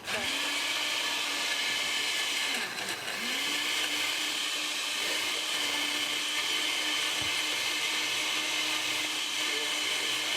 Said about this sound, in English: let's see this blender